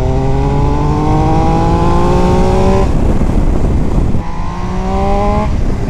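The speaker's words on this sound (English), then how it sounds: "The motor sounds absolutely cracking." A 2019 MV Agusta Dragster 800 RR three-cylinder engine revving hard, loud and close, with two rising sweeps of revs broken by a brief rough drop in between.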